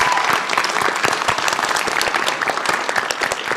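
A live audience at PAX East 2024 breaks into a dense, steady round of applause that fills the room, heard alone without talking.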